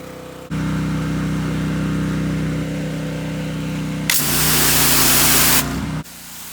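Troy-Bilt 3400 PSI gas pressure washer (TB3400PW) running with a steady engine drone, joined by a loud, harsh hiss of water spraying for about two seconds before the spray stops and the engine note shifts.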